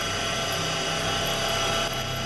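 A drill bores the first hole into a motorcycle triple tree yoke for a Triumph chopper, a steady high mechanical whine with a few sharp ticks and scrapes near the end, loud and close.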